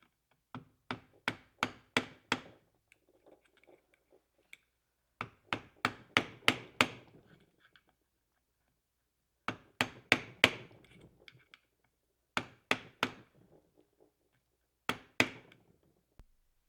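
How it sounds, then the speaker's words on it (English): On a Suzuki DR350 clutch side, a screwdriver is struck to bend a lock washer against a nut, producing close, sharp metallic taps in quick bursts of four to six, repeated in several groups with pauses between. "take your least favorite screwdriver or whatever and bend one part of this inner washer up and around one of the sides of this nut"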